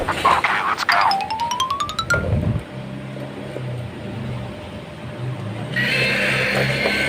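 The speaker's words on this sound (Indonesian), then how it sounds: "Ayo kita ambil hewan gajahnya teman-teman. Dan kita nyalakan." A battery-powered toy elephant is switched on, giving a bright rising electronic chime tune, then a steady close motor whirr as it moves.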